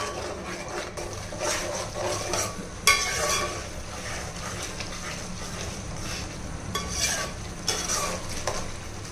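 Tomato and fried onion paste for chicken korma frying in a pan, a steady soft sizzle with occasional scraping stirs and light clinks of a spoon against the pot, no talking.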